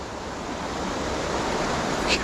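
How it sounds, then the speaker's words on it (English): Wharnley Burn waterfall gives a continuous broad rushing roar of falling water, steady and even throughout, with no talking. "so there you have it. WHARNLEY Burn waterfall"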